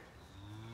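A cow lets out a low, drawn-out moo from some distance on a farm near a stiff Thoroughbred horse, faint but steady for under a second.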